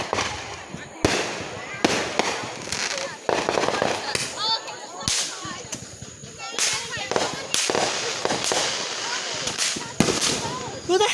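Fourth of July fireworks in 2020 crack and burst overhead in rapid, loud, irregular volleys with crackling tails, while people shout and talk excitedly nearby.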